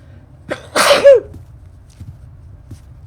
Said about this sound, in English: more sneezing